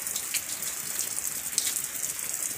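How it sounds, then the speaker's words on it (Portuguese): Heavy rain falling in an outdoor rural garden area, a steady, fairly faint hiss of drops with a few brief splashes and no voices. "Muita chuva."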